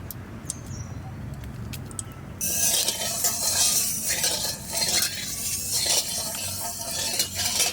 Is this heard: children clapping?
no